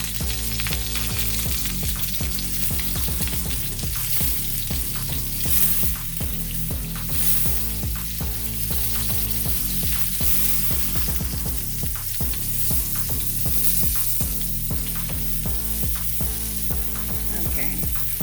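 Pork tenderloin searing in a hot pan for a honey garlic dish, a constant loud sizzle with rapid crackling pops and occasional scrapes, no talking.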